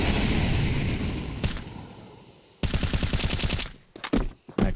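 Counter-Strike 2 gunfire during a tournament match: a long dense burst of automatic fire, a sudden loud rattling volley after a lull, then scattered sharp shots, loud and close.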